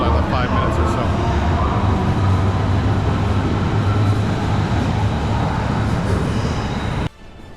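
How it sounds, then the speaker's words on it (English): Loud, steady rumble and roar of a Berlin S-Bahn underground station as a train runs through, constant and close, cutting off abruptly near the end, with voices talking over it. "we're catching the S-Bahn here in Berlin. Kind of noisy down here"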